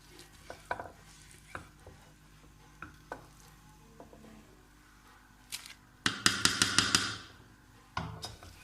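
A spoon or ladle stirs grated carrots into simmering kheer in a pot, giving soft scraping taps that build into a brief, denser burst of clattering stirs near the end, with quiet pauses between.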